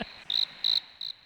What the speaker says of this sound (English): It's hard with those crickets that we're getting over here.